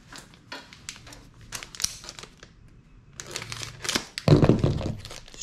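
Plastic fishing-lure package being torn and wrestled open, with repeated crinkling, thunks and a louder burst of tearing near the end, close and without talk.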